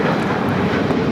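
An American Airlines Boeing 737-800 airliner at Los Angeles airport produces a brief, loud, even jet rumble with no voices.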